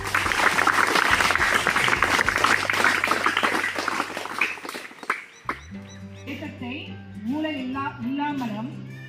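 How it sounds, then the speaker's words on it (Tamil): Students and teachers at a school awareness programme applaud loudly at first, a dense burst of clapping that fades after about five seconds, followed by a voice speaking over the room. "பலத்த கரகோஷத்துடன் வருக வருக என அன்போடு வரவேற்கிறேன்"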